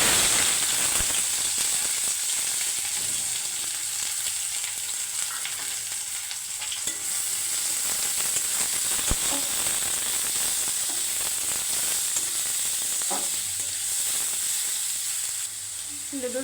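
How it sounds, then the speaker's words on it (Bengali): Noodles frying in a pan with onion and green chili, a steady loud sizzle running throughout with occasional stirring scrapes and clicks, no talking. "লুডুস রান্না করব শুধু পেঁয়াজ দিয়ে, পেঁয়াজ আর কাঁচামরিচ।"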